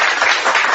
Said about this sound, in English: Let me give a proper round of applause this week.